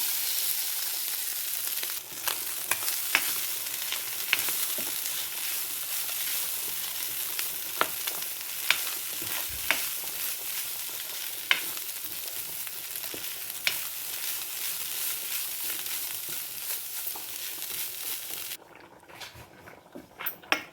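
Tinned fish fries with sautéed onions in a pan, giving a dense, even sizzle that holds for about eighteen seconds with scattered utensil taps before dropping away at the end.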